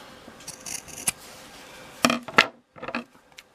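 Scissors snip through the fabric corners of a sewn pillow in several short, close, crisp cuts with small pauses between them.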